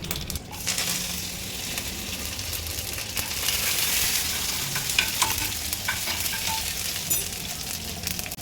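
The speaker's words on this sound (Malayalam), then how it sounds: "ഇവിടെ സാമ്പാറിന് വേണ്ടിയിട്ട് കടുക് പൊട്ടിക്കൊണ്ടിരിക്കുന്നു." Mustard seeds, shallots and dried chillies sizzle in hot oil for a sambar tempering during an Onam meal, a dense, steady crackling hiss with small pops that holds loud from start to finish with no talk.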